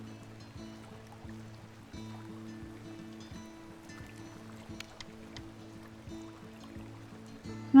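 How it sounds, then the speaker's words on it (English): Gentle flowing-water ambience from the Kynseed adventure RPG, a soft steady wash running continuously beneath repeating low game tones, with no voices. "Oh, but I like the water sounds."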